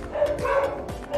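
Several pet dogs bark and yip in a house, close by and in a quick, overlapping run over a low household background.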